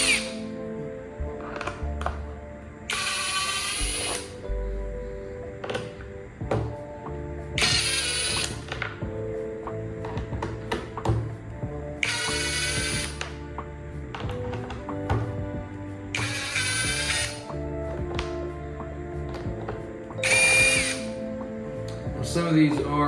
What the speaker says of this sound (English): Now we're going to take these Phillips screws out.